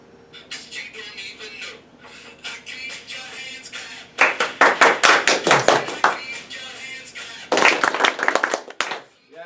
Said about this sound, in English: Let's do the clap. Follow the music.